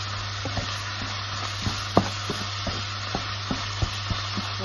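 Minced pork stir-fried in a pan gives a steady sizzle with an electric hum underneath, broken by light, irregular scrapes and taps from the spatula, close and without talk.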